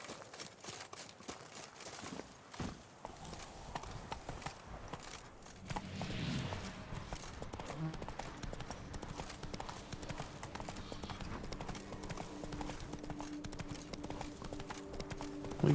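A horse's hooves clip-clop in steady rhythm in the video game The Witcher 3: Blood and Wine, a close, continuous trotting patter over quiet background sound.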